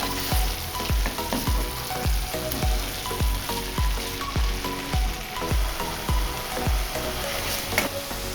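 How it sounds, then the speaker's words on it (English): Meat juices for a ragu bolognese bubble and sizzle hard in a pan, with steady frying hiss and a rapid run of loud rhythmic crackles and pops close up, no voices. "I will let all that juice that came out of the meat to reduce before I continue adding more ingredients to it"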